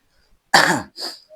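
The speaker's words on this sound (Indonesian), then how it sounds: "aduh agak batuk nih saya" A man clears his throat with one loud, rough burst, then gives a softer second rasp and a faint short tail, with silence before it and no other sound.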